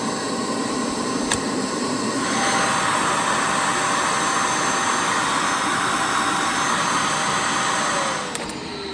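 A Shark Vertex AZ2002 vacuum cleaner runs continuously with strong suction, a loud, steady whirring roar close to the listener that swells slightly partway through, with no talking over it.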